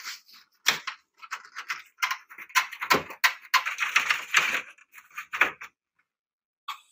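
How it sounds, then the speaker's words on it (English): Plastic casing pried off a VGA monitor cable connector gives a close, irregular run of sharp clicks, snaps and cracks with brief pauses between them. "we remove the plastic casing"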